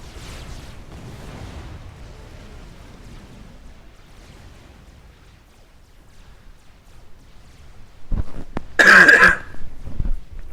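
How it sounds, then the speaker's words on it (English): A single harsh cough bursts out loudly near the end, following a stretch of low background noise. "Brutal cough, do excuse me."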